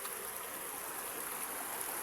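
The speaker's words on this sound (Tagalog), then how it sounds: "malakas yung agos ng tubig kasi." Steady rushing water of a strong river current fills the whole clip, a broad continuous wash like a fast current flowing nearby, with no voices.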